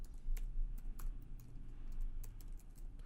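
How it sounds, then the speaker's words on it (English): Rapid typing on a computer keyboard, a steady run of crisp, close key clicks with uneven rhythm over a faint low background hum. "for the ID just type in here txt polymorphism"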